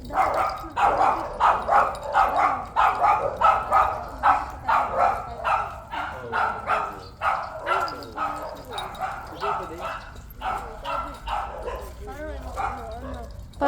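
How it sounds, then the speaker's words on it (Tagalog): Several dogs bark and yip in quick, repeated bursts close by, a steady run of loud barks with some whimpering mixed in, while a person talks over them. "Daming doggy."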